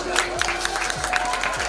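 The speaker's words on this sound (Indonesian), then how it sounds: "Tepuk tangan Pak beliau." An audience applauds at a traditional ceremony in Jepara, with a faint, steady patter of clapping under a background hum.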